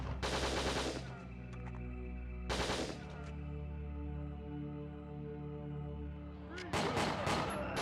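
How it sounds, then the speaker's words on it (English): Repeated enemy gunfire in the PS2 shooter Winback: Covert Operations, loud bursts of shots cutting in and out over a sustained game soundtrack. "There's four guys just standing there firing at me."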